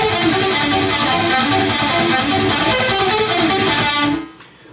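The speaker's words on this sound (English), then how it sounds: "It's a pentatonic lick which I play double picked with palm muting to create" Distorted electric guitar plays a fast, tightly chugging palm-muted, double-picked pentatonic lick of rapid repeated notes, continuous and loud, then cuts off with a short fading tail.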